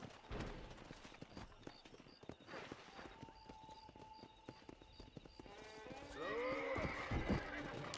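In the video game Red Dead Redemption, a horse lets out a rising and falling whinny near the end. Quieter hoof clip-clops and thuds come before it, and the whole scene sits at a low, distant level.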